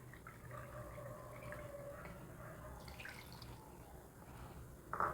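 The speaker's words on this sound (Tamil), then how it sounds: "இதால் ஒரு கப்பு தண்ணி ஊற்றிடலாம்" Water pours in a soft, steady trickle into a bowl of wheat flour, faint and muffled, ending with a brief louder splash.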